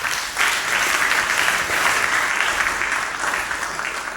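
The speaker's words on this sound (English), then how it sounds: "Can we give ourselves a round of applause?" An audience in a religious talk setting breaks into loud, steady applause, dense clapping sustained throughout without any speech over it.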